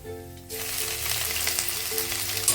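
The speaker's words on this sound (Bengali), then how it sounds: "দিয়ে দিলাম আদাটাও একদম ভালো করে আমি গ্রেট করে নেবো মানে ভালো করে ভেজে নেবো" Chopped ginger hits a pan of oil with browned garlic over a low gas flame, setting off a loud, steady, crackling sizzle after a brief quiet start. The frying continues without a break, with no voices.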